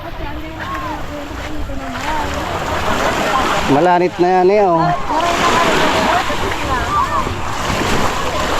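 Sea waves wash and surge along the seaside in a steady roar, with wind noise throughout and people talking nearby over the surf.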